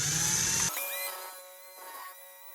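A cordless drill whirs briefly, spinning a wheel rim against sandpaper, then cuts off abruptly, leaving a fading metallic ringing hum.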